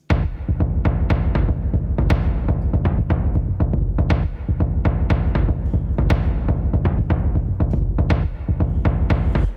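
The Action percussion loop patch from UVI Cinematic Shades drives a dense, continuous cinematic rhythm of pounding low drums and sharp hits, loud and close, with no voices.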